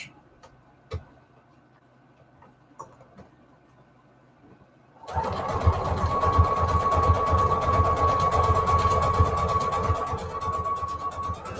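A sewing machine stitches through junk journal pages made from a book, starting after a few seconds of near silence with scattered clicks, then running as a steady, loud, fast whirring hum to the end.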